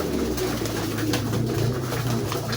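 A flock of hungry racing pigeons crowding at feeding time, with a steady dense chorus of cooing and fluttering, close and continuous.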